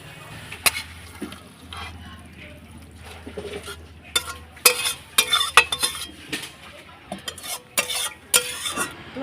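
Bitter gourd curry stirred in a pan as its liquid cooks down, a soft sizzle under irregular scraping and clattering strokes of a utensil, close and growing busier toward the end.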